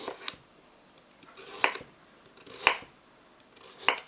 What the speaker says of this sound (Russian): Крупно нарезаем морковь